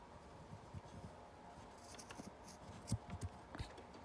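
Scissors snip embroidery thread loops on a textured stitch, trimming them short: a run of faint, close clicks and snips, a few sharper cuts near the end, with no voices.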